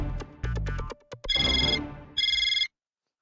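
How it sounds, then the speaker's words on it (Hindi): A mobile phone ringtone plays near a shop counter, an electronic melody of two short bursts separated by a brief pause, loud and close, following some clattering and muffled voices. "लगा पीयूष भाई का फोन लगा।"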